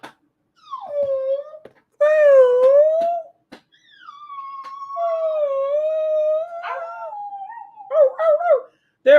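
A pet dog howls and wails in long, wavering, rising and falling tones, close and fairly loud, in several drawn-out bursts with short breaks between them.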